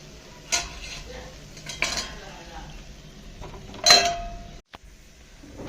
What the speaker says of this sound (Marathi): आणि आता याच्यावर थोडं परत झाकण ठेवते